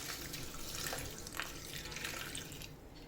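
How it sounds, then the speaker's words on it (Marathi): Water poured from close by into a mixer grinder jar holding mint and jamun fruit for a sherbet, a steady splashing trickle that continues for a few seconds and then tapers off, with no talking. "ह्यातमध्ये पाणी घालायचं आहे."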